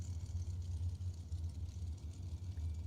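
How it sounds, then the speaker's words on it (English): Dragsters idling back up the drag strip after their burnouts at a bracket race, a low steady rumbling engine drone heard from a distance without much change. "the first pair of dragsters having made their burnouts and making their way back up"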